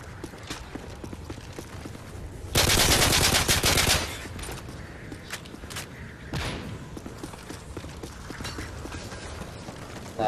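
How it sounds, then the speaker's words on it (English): In a quickscoping first-person shooter, a loud burst of rapid gunfire lasts over a second, then scattered quieter shots and clacks follow against steady game noise. "I'll shoot it so you can hear me in a minute"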